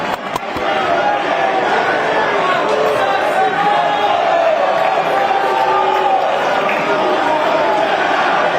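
Napoli football supporters chant together at the team's summer training camp in Castel di Sangro, a loud, steady wall of massed voices that holds unbroken throughout without a clear pause.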